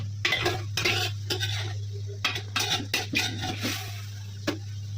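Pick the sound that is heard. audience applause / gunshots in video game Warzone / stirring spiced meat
stirring spiced meat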